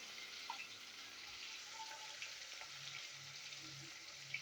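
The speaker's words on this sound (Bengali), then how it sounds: "এবার আলুগুলো ভাজবো একই তেলে" Potatoes frying in oil already used for kakrol give a faint, even sizzle with small pops and crackles scattered throughout, close by and without any voices.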